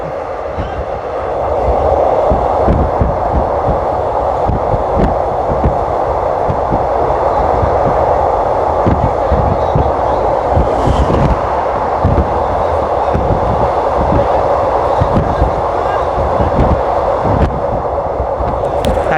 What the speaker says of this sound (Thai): ทั้งเสียงลมแล้วก็ เสียงล้อกระทบรางเนี่ย อาจจะดังหน่อย